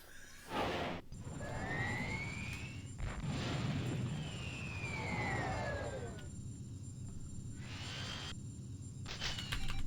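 Torpedoes launch at assault gunboats in the space combat game Star Wars X-Wing: sharp blasts and whooshing sweeps with falling pitch, repeated several times over a continuous engine hum.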